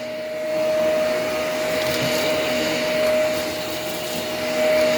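An upright vacuum cleaner runs on carpet with a steady motor whine, crunching and rattling as it picks up grit and debris, close and fairly loud, no talking.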